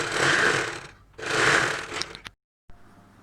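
A sewing machine stitches a saree blouse in two steady runs of about a second each, broken by a short pause, then a couple of faint clicks and a quiet tail.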